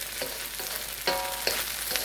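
Bacon fried rice being stir fried in a pan, a steady close sizzle with scraping stir strokes of spatula against metal at irregular intervals, no talking.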